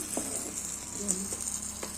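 Dosa batter sizzles on a hot clay pan over tempering, a short, even hiss with soft stirring sounds and a faint voice in the background.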